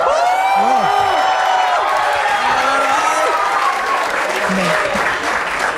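Applause and cheering from a crowd at a staged comedy show, with whoops and shouted voices rising over steady clapping, loud and close throughout.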